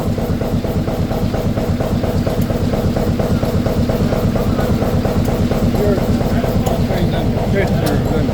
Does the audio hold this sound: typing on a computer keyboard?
no